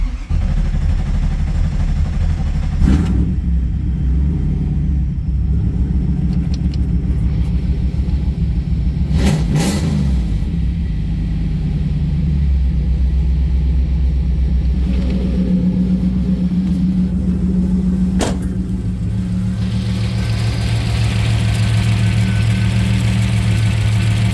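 A GM F-body car engine with a bypassed oil pressure sending unit runs at a low, rumbling idle up close, with a few sharp clicks and a brief rev partway through, and no talk.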